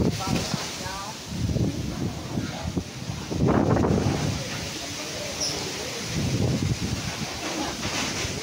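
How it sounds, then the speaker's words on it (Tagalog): Strong gusty typhoon wind roars across the microphone in Quezon Province, with people talking over it in short bursts and louder surges around the middle. "Sobrang hangin po dito po sa Quezon Province."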